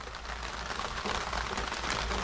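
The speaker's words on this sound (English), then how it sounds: "I thought it wasn't supposed to rain." Rain falls as a steady, broad hiss, even and moderately loud throughout, with no voices.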